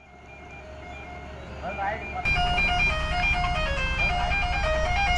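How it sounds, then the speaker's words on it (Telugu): A heavily loaded truck reverses on a ghat road, playing a looping musical reverse-alarm tune over engine rumble that grows suddenly louder partway through, while people talk nearby. "అయితే ఒకసారి రివర్స్ కొట్టాలా రివర్స్ కొట్టాలా ఒకసారి"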